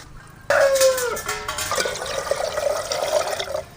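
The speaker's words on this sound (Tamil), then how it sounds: "ஒரு 3/4 கொண்டா தண்ணி ஊற்றிக்கலாம்." Water poured from a vessel into a cooking pot set on a stove for cooking sorghum, starting with a sudden loud splash and settling into a steady, gurgling fill.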